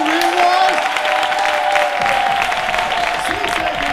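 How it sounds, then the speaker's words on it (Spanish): A festival crowd applauds and cheers at a live comedy show, the clapping and whoops holding loud and steady for a few seconds with voices shouting over it. "tenéis que ir subiendo la intensidad de este aplauso"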